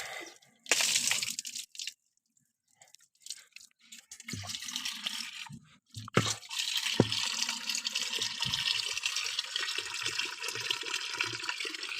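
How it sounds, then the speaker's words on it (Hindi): Water gushes into metal pots in a village household, a loud rushing stream that starts and stops in bursts, then runs long and steady with a few sharp clanks of the vessels. "बर्तन मैंने भर के इधर रख दिए हैं"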